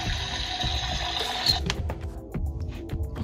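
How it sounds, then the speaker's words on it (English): A toy kitchen tap plays a small electronic running-water effect, a hissy gurgling trickle that cuts off after a second and a half, followed by light handling clicks. "It's got a little bit of a water sound effect."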